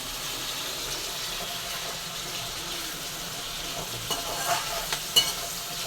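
Vegetables such as onion and curry leaves sautéing in oil for sambar, a continuous close sizzle and hiss with a few light stirring scrapes and clicks near the end.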